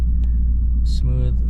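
A Pontiac Trans Am with a muffler delete idles with a steady low engine rumble, close and constant, while a voice speaks over it.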